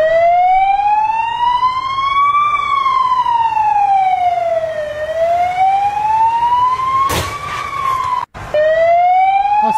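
An emergency vehicle siren wails loud and close, sweeping slowly up and down in long continuous cycles, with traffic rumble beneath and a brief break near the end.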